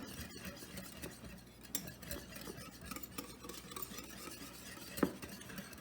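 Pork chop dipping mixture whisked in a bowl for breading, a steady soft scraping and stirring with a faint clink of utensil on the rim, close and quiet, no talking.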